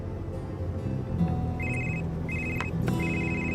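A phone rings with a repeating electronic ringtone, an unknown number calling, heard fairly close over a low background music bed with no talk.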